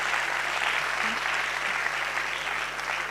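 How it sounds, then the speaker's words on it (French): Audience applause at a comedy festival stand-up show, a dense, steady wash of clapping from a crowd that holds evenly for about three seconds without any voices on top. "Et applaudissez ensemble, s'il vous plaît"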